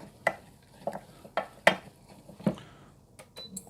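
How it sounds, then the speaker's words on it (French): A spoon scrapes and knocks against a pan while flour is stirred into melted butter for a roux, making several sharp, irregular clacks and scrapes close by over quiet background noise. "vous incorporez en une fois toute la farine et vous mélangez pour faire une pâte"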